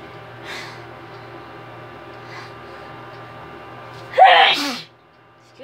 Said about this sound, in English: Sneezing my head off now.